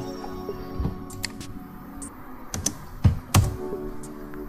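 Keys clack on a computer keyboard while someone types code, with scattered taps and a few heavier strokes close by, and no voice over them.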